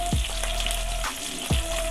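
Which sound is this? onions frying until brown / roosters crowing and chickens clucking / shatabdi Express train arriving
onions frying until brown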